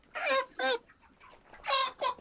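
Broiler chickens clucking nearby in short bursts, four distinct calls with brief quiet gaps between them.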